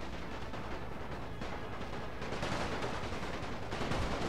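Musket volleys and artillery in a Napoleon Total War battle with a German Empire mod: dense, continuous crackling gunfire with distant booms, a steady battle din throughout, swelling slightly toward the end.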